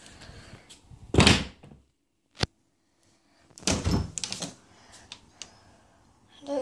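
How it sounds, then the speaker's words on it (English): Back door of a house by the kitchen being shut, with a loud thud and rattle, a sharp knock shortly after, then a second burst of clattering thumps and a faint closing clunk. "I'm going to close the back door"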